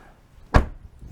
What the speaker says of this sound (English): And these door slams